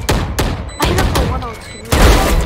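Tactical shooter gunfire in rapid bursts, with several sharp loud shots separated by short pauses and heavy low thumps, alongside spoken voice lines.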